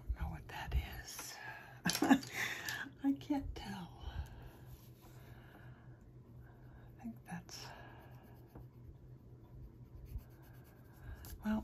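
A pencil shades a greyscale coloring page of sunflowers and foliage with soft, close scratchy strokes in irregular bursts, mixed with quiet whispered talk.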